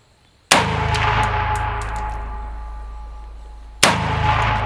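A gunshot rings out loud and close outdoors with a long metallic ringing decay, followed by a second sharp shot about three seconds later.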